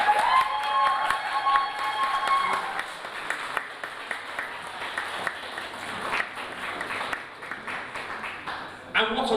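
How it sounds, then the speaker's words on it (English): Applause from an audience at a student union election results night as candidates are honored, sustained clapping and some cheering swelling then thinning out, with a voice speaking over it near the end. "They deserve a round of applause just because they've survived this ordeal."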